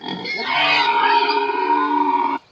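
One drawn-out, throaty pig-like grunt from a human imitation, loud and close, holding steady for a couple of seconds before stopping abruptly.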